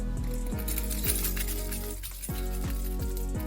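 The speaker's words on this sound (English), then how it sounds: "That's what happens if you have a heavy bunch of keys like this" A heavy bunch of keys hanging from a motorcycle ignition jingles and clinks in a quick, fairly regular rhythm of metallic taps, close and moderately loud, with a short lull partway through.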